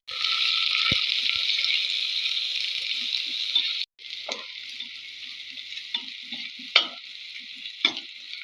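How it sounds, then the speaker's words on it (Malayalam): Chopped onion hits hot ghee and coconut oil with cloves, cinnamon and cardamom for ghee rice, giving a loud steady sizzle that suddenly drops to a softer hiss broken by a few spoon clinks as it is stirred, with no talking. "അപ്പൊ നെയ്യും വെളിച്ചെണ്ണയും ചൂടായിട്ടുണ്ട് അതിലേക്ക് ഗ്രാമ്പു പട്ട ഏലക്ക ഇനി അരിഞ്ഞു വെച്ച ഉള്ളി"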